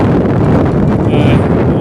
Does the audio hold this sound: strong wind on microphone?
yes